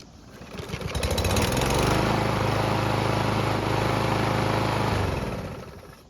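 A hot lawn mower engine is pulled back to life after running for several minutes, catching quickly and roaring at a loud, steady, close-up buzz before fading slightly near the end.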